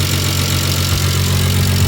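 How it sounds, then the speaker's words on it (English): A Toyota engine swapped into a Nissan 370z Nismo idles close up with a steady, even low hum and faint ticking, loud and constant with no voices. "listen to how quiet this engine is"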